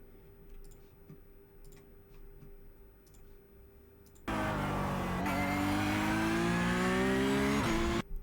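Porsche GT3 Cup race car engine at Hockenheimring in the iRacing sim, quiet at first, then a loud, steady engine note suddenly cutting in and rising in pitch under throttle, with a brief drop near the end.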